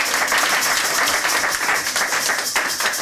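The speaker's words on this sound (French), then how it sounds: "Applaudissons pour le Seigneur." A congregation at a church service applauds in praise, steady dense clapping from many people throughout, fairly loud and close, with a faint voice beneath.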